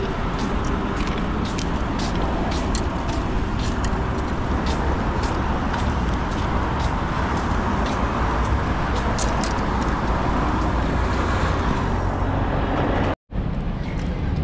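Road traffic rumbles steadily near a bridge, a loud continuous roar of passing vehicles from close by, heard while riding along, with wind buffeting throughout.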